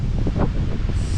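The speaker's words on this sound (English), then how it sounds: "So windy." Strong wind in Malé in the Maldives buffets the microphone with a low, rumbling roar in a brief gusty burst. It is close, and no one speaks.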